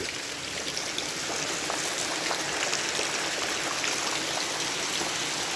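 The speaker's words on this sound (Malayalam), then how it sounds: "ഇതാണ് മഴ" The season's first rain pours down in a dense, unbroken hiss, close and moderately loud, with no voices.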